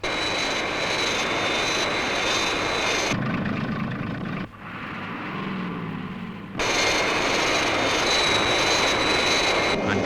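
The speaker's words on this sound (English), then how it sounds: "Aircraft approaching glide path 5 miles to threshold. Stand by, Virgil. Fireflash on final approach." Fireflash airliner engines roar loudly on final approach in a Thunderbirds episode, a sustained jet whine that drops away into a quieter stretch midway and then surges back at full strength.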